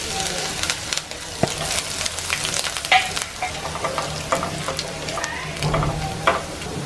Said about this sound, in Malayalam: ഇപ്പൊ നമ്മുടെ കടുക് പൊട്ടി